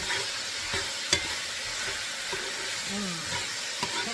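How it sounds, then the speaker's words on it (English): Beer brats sizzle and fry in a pan with a constant dense hiss, joined by a few soft clinks and scrapes of stirring, close and steady throughout. "You can hear it sizzling."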